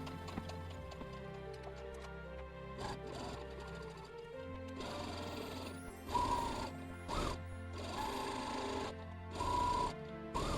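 A sewing machine stitches around the edge of a fabric Christmas star in quiet, close bursts of rapid mechanical whirring, separated by short pauses and soft clicks.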